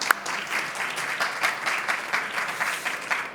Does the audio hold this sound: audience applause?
yes